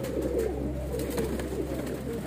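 Pairs of Weshi, Kansani and Sialkoti pigeons coo in a low, soft, steady murmur close by, with no talk.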